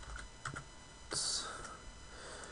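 Keys clicked on a computer keyboard while entering a server IPv4 address, a few scattered taps then a denser burst of typing, close and fairly quiet with no talk over it.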